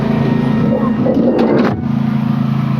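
A car drives off with a steady, loud engine hum throughout and a brief swell of revving and scraping partway through.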